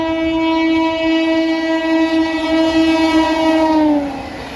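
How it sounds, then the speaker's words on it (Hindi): Train horn sounding steadily at an Indian railway station as a train passes through, a loud sustained multi-tone blast held for about four seconds before tapering off, over a low rumble of the moving train. "हमारे चाहते ही एक ट्रेन यहाँ पर से गुजर गई है"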